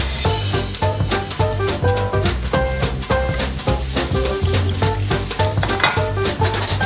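Steady, crackling sizzle of lamb loin frying in a hot pan, with music playing over it throughout.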